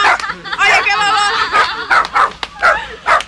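A small dog barks and yips in quick, excited bursts, loud and close, with a whimpering tone between barks.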